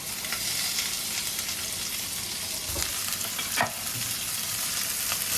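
Onion and capsicum fry in a pan after meat has browned, a continuous close sizzle with scattered pops and a few stirring scrapes, steady throughout with no voices.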